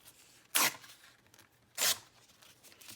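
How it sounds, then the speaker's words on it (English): A paper bag is torn along a line in two quick, close rips about a second apart, each a short crisp burst against near silence. "I'm just looking at the line in my bag where to tear again"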